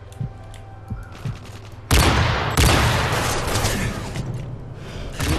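Rapid bursts of heavy gunfire erupt after a few scattered shots, then a sustained barrage of loud booming cannon blasts continues, in Modern Warfare 3.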